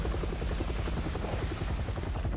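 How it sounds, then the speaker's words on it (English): A helicopter in the video game Resident Evil 7 thunders close and loud, its rotor chopping in a rapid, even pulse throughout with no speech over it. "This helicopter is so loud."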